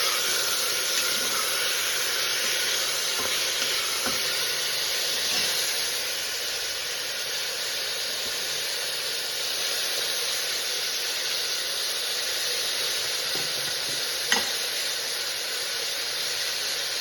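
Two country tomatoes fry and sizzle in a pan, a steady broadband hiss that holds close and even throughout, with one faint tap near the end and no talk.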